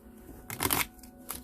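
One quick riffle of tarot cards being shuffled, crisp and close, followed by a faint soft flick in a quiet room.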